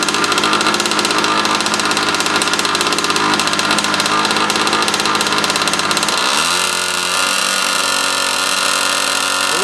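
A 1965 engine runs steadily at idle on a test run, a loud continuous mid-pitched hum with a slight change in tone partway through, running a little rich.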